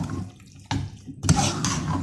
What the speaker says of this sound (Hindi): आलू गलने के लिए मैंने इसमें पानी डाला है